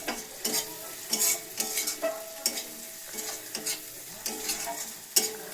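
Lote (Bombay duck) fish, rubbed with salt and lime juice, sizzles in a pan without water as it is stirred, with repeated scraping strokes in a loose rhythm over a continuous fry hiss.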